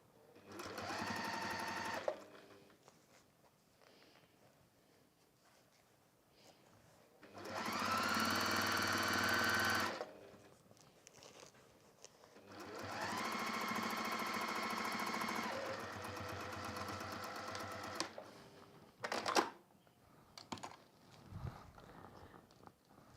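Sewing machine stitching around the top of a square handbag, running in three bursts of a few seconds each with quiet handling pauses between, close and fairly loud.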